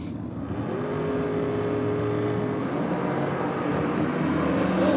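Drag racing cars in a Top Sportsman class at a NSW championship meet roaring steadily down the strip side by side, a loud sustained engine drone building slightly over the run.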